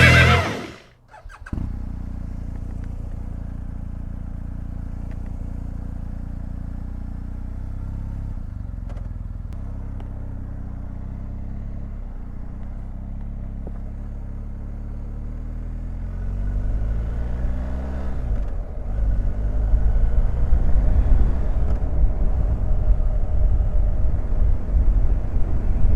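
A 2019 BMW R 1250 GS adventure motorcycle being ridden, its boxer engine droning steadily with wind noise, rising and growing louder in the final seconds as the throttle opens.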